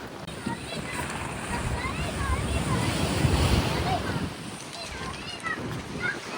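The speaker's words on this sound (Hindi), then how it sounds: "थोड़ी सी भाई लहरें आई" Waves on the Amazon River, near the Peru–Colombia border, slosh against a cargo boat, swelling in the middle and then easing, with wind buffeting the microphone.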